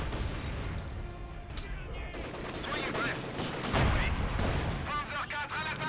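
Heavy machine gun fire in Company of Heroes 2, dense crackling bursts with booming impacts across a busy battlefield, with voices over the gunfire.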